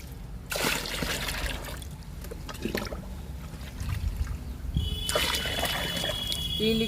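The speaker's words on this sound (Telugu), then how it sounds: "సగం నీళ్లు, సగం లిక్విడ్. ఇందులో కూడా పోస్తున్నా లిక్విడ్ని." Liquid fertilizer mixed half and half with water pours into a plant pot, trickling and splashing in several bursts at close range against a soft, noisy background.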